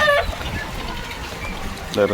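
Chickens cluck and call after their coop is opened in the rain, short bursts near the start and end with a quieter outdoor patch in between.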